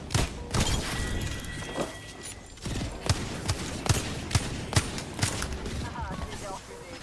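Gunfire in a ranked shooter game, a string of sharp, separate shots at an uneven pace under a steady layer of game noise, with a player's voice in between.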